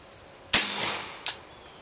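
Two suppressed 9mm 147-grain subsonic shots fire through an XCaliber SeaFire Diamond 45 ACP suppressor, each a sharp close crack with a short decaying tail, spaced under a second apart.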